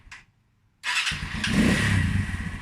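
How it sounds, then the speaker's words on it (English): A Keeway motorcycle engine starting: a short starter burst, a brief pause, then the engine catches and settles into a steady, fairly loud idle close by. "If I start the bike"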